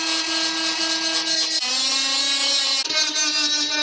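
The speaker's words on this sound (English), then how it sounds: "I'm going to use my trusty Dremel to grind away some of these smaller rust scabs." A Dremel rotary tool grinds rust scabs off the body of a Mk2 Ford Escort, a loud, close, continuous high whine that drops in pitch twice as it bites into the metal.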